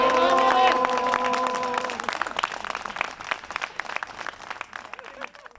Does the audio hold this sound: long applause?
yes